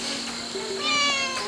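A kitten hiding in a vegetable garden beside a dormitory gives a single drawn-out meow, fairly close and clear, over a faint steady background hum.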